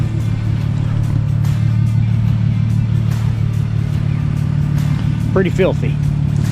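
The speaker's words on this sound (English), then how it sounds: "I'm gonna leave it running while I'm pressure washing so that battery can get a good nice charge in it." A Dodge Intrepid car engine idling outdoors with a low, steady, even rumble running throughout, while someone speaks briefly over it near the end.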